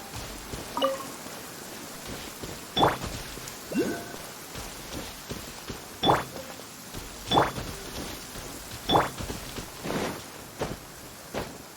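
Rain falls steadily in the video game Genshin Impact, a soft continuous patter broken by regularly spaced sharper thuds like heavy drops or footsteps, fairly quiet and close.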